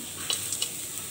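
Leafy greens (saag) frying in a pan with garlic and green chilies give off a steady sizzle, with a few quick stirring scrapes over roughly a second.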